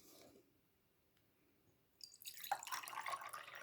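Water is poured into a container for a simple mixing demonstration, a faint drip or two followed by a brief, soft splashing trickle that swells near the end, close and quiet with no talk.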